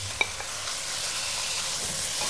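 Chicken pieces frying in curry in a pan, with a couple of sharp stirring scrapes near the start over a steady, even sizzle that fills the rest.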